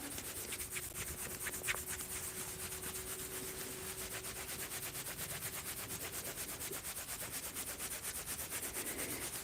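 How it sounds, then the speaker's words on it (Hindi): Hands rubbing the body with both palms during a dry, oil-free self-massage, sweeping along the lower sides. Continuous rapid, rhythmic friction strokes, steady and fairly close, with no one talking. "थोड़ा नीचे साइड से रब करते हुए दोनों हाथ से इस तरह।"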